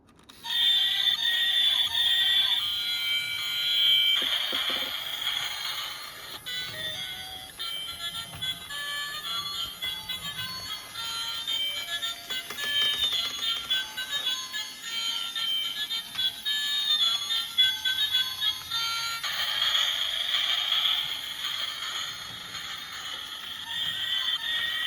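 Knock-off Thomas toy train from a Tomy-style set, powered by two AA batteries, running with a busy electronic speaker tune and beeps over a faint motor whir, steady and close for the whole stretch.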